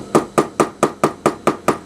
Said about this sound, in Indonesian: untuk bagian tebal ini teman-teman getok dulu. Bisa menggunakan gunting